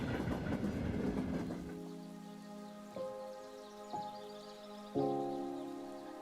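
A train rumbles along with a loud, dense clatter that settles into a steady drone, broken by three sharp clunks about a second apart.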